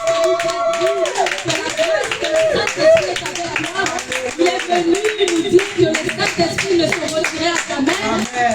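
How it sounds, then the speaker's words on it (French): A church congregation applauds steadily, with many hands clapping together in a continuous loud patter, while voices and singing carry over the top. "Est-ce que nous pouvons acclamer"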